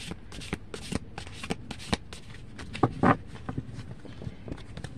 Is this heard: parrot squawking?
no